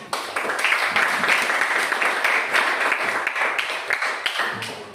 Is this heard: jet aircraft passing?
no